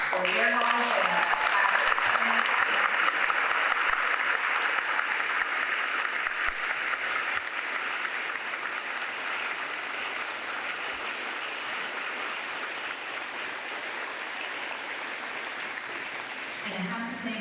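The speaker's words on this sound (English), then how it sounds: "Please join me in giving a round of applause for Mr. Aaron Hale, Revere Hall of Fame." An audience applauds a Revere Hall of Fame inductee in long, steady clapping that starts strong and eases gradually, holding as a dense wash of hands throughout.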